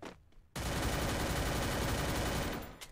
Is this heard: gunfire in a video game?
yes